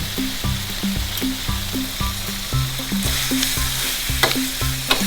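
Young tamarind chili paste stir-fried in a pan, sizzling steadily throughout with repeated rhythmic scrapes and knocks of a spatula against the pan, close and fairly loud with no talking.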